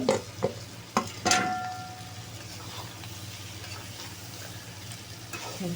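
Sliced bitter gourd frying with shrimp in a pan, a few sharp spatula clacks at the start over a soft continuous sizzle that carries on quietly.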